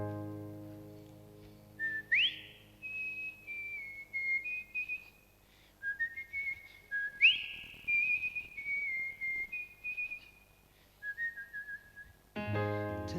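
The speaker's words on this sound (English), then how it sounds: "there's a bit of a whistle at the beginning" Clear melodic whistling opens a song, a few rising and sliding tones repeated in two phrases over a soft instrumental backing, before the full music comes in near the end.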